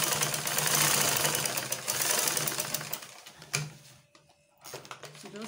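A sewing machine runs in steady, fast stitching bursts while sewing a shift dress, with a brief pause near the end before the motor starts again.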